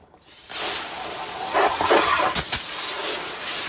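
A steady hissing spray of water rinses off a piece of artwork, starting abruptly and continuing, with slight surges and a couple of splattering bursts partway through.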